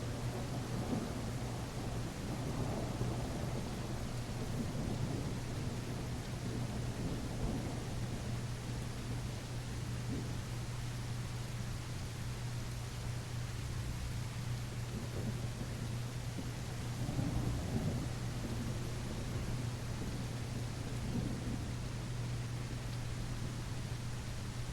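Rain falls steadily in the dinosaur survival game The Isle Evrima, a continuous wash of rainfall with low rumbles of thunder rolling in and out, no talk over it.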